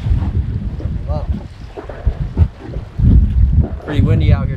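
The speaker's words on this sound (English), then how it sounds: "Pretty windy out here today." Wind buffets the microphone in loud gusty rumbles outdoors on a fishing pier on Chesapeake Bay, Maryland, while a person talks through the blustery noise.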